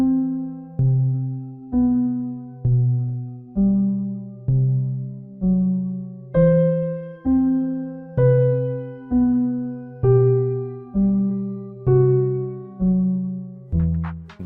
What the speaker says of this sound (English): So let's try with the intimate classic soft felted piano.